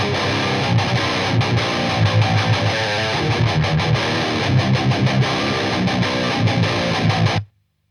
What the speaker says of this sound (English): I gotta crank up the gain a little bit on my amp, so I still have enough distortion in there